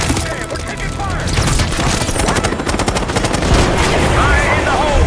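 Constant heavy gunfire and automatic weapon bursts fill a Black Ops 6 video game campaign battle, loud and dense throughout, with faint voices mixed under the chaos.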